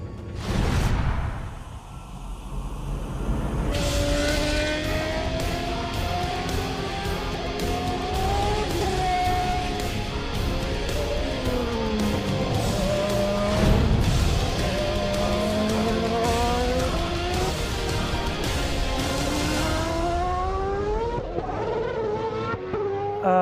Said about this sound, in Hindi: हिंदुस्तानी फॉर्मूला 1 कार चला रहे हैं